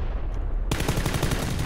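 Gunfire in the battle royale game PlayerUnknown's Battlegrounds: after a brief quiet start, rapid automatic fire breaks out suddenly and rattles on loudly and continuously in a fast, even stream of close shots.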